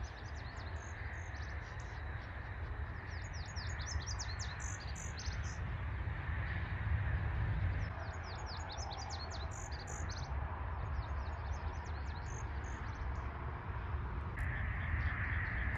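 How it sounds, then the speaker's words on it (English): Many gulls call continuously in a noisy flock, rapid overlapping squawks and cries over steady outdoor rumble, with no talking. "Seagulls. A lot of seagulls."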